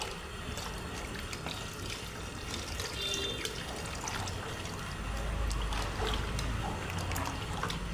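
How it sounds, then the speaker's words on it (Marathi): Water pours steadily into a pot of simmering moth bean curry (matki usal), a continuous close splashing and trickling with a fuller rush toward the end, and no talking. "आणखीन थोडं पाणी ॲड करतो मी"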